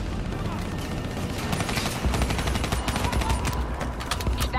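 Rapid automatic gunfire rattles through a Black Ops 3 video game battle, with dense overlapping bursts and booms that grow heavier midway, loud and continuous, with brief voices mixed in.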